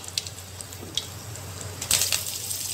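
Mustard seeds and dried red chillies sizzle in hot oil for a coconut kulambu, giving a steady soft hiss with scattered sharp crackles and pops.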